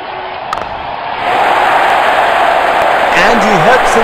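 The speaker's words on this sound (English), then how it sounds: "Crowd going mad here." A stadium crowd roars steadily in the cricket game Real Cricket 19, swelling to a sustained loud cheer, while a commentator speaks over it.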